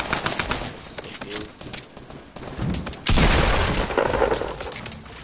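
Fortnite sniper rifle gunshots fire in a ragged run of cracks and bursts, with a heavier, louder blast arriving midway and busy gunfire continuing behind it.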